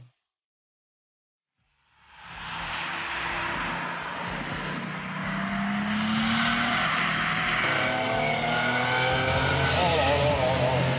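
Flat-six engine of a custom Porsche 911 revving hard, a steady loud roar that builds after a brief silence and climbs in pitch near the end, with a voice talking faintly underneath.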